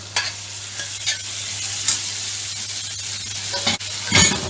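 Boiled, salted mung beans tip into a pan of red chili and coriander-cumin powder and are stirred, a steady close sizzle broken by several sharp scraping clinks of a spoon against the pan, with no talking.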